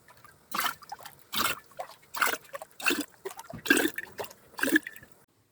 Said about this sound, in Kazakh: Енді қазір банкаларымызға құйып жауып тастаймыз.